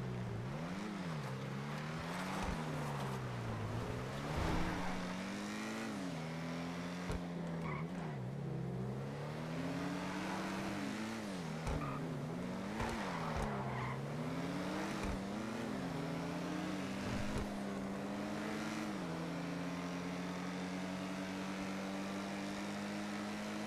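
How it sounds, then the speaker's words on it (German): A car in a GTA roleplay game roars continuously at speed, engine pitch rising and dipping through repeated gear shifts and turns, with sharp knocks and skid noises scattered throughout and no speech. "Alter, die Karre geht ab"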